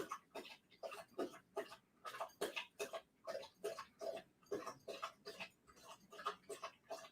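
A pet laps water loudly and steadily, a fast run of wet slurping strokes close by over a quiet room, with no talking.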